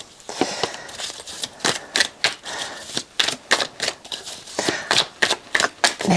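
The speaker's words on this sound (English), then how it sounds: "sort this mess of cards out" Tarot cards riffled and shuffled by hand in a stop-start rhythm, a run of crisp papery flicks and slaps up close, alone with no talk.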